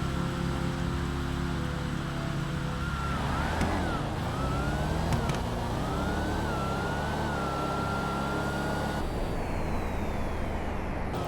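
Game cars in a GTA street-outlaws style round-robin drag race, a Hellcat among them, roar steadily at full throttle with rising engine whines and gear-shift dips, loud and continuous with no talking.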